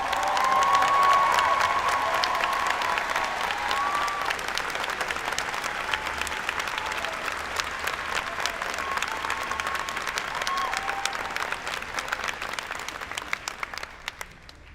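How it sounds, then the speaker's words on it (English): A Berea College 2019 commencement audience applauds the faculty with sustained, dense clapping from a large crowd that gradually thins out toward the end. "Could I ask the faculty to stand and receive our applause?"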